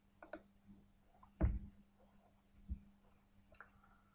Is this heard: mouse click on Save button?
yes